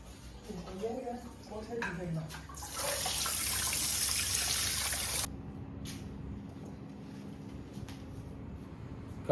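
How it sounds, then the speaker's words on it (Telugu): Mangoes are rinsed under a running tap in a steady splashing rush of water for a few seconds, with a voice talking briefly before and quiet room sound after. "ఒకసారి కాయ కడిగిద్దాం, కడిగేసి టేస్ట్ ఎలా ఉన్నాయో చూపిద్దాం."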